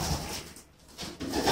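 Young racing pigeons coo softly in a breeding loft, a brief low, murmuring coo rising and falling at close range with no talk.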